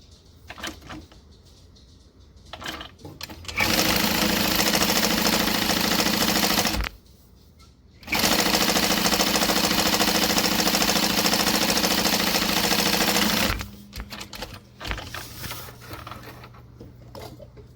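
A sewing machine stitches a bag seam at a 3.5 stitch length with a quarter-inch seam allowance, running in two long steady bursts with a short pause between them, loud and close, with no talk.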